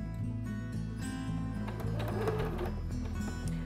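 A domestic sewing machine driven by a foot pedal stitches through fabric with a steady mechanical whirring hum that speeds up partway through, close and continuous.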